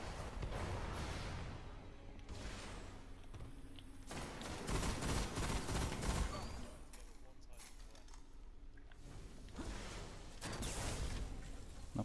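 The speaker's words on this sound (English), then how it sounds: "Oh, I'm being shot." Video game gunfire in Destiny arrives as repeated bursts of shots and impacts, loud and close in uneven clusters, under and between excited talk from a player.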